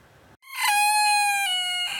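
Maurice, a 2.5 kg rooster, gives one loud, close cock-a-doodle-doo, a single drawn-out rising and falling crow with no talk over it.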